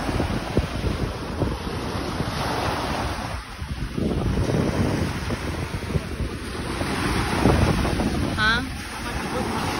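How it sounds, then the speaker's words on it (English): Ocean waves wash onto the shore on a chilly, windy day, rolling and breaking in a steady rhythm under heavy wind buffeting on the microphone, with a brief spoken word near the end. "I love the sound of waves."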